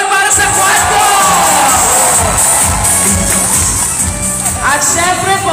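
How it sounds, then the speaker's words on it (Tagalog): A large crowd at a congressional visit in Batangas cheers and shouts for Quadcom, loud overlapping whoops and voices forming a continuous roar close by. "Malakas na palakpakan at sigawan para sa Quadcom!"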